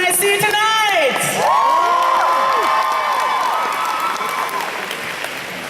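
A convention crowd at an anime festival's opening ceremony gives a musical guest loud, steady applause thick with whoops and cheers, filling the hall without pause.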